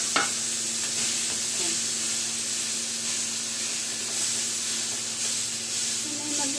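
Beef sizzles and hisses steadily in a pan while being stirred, with occasional scraping clinks over the continuous frying noise.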